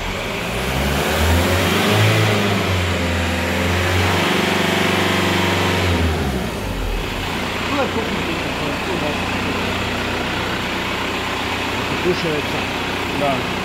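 A car engine revs up and holds high for several seconds, then drops back toward idle while someone works on fitting a short shifter, loud and close with voices talking over the engine.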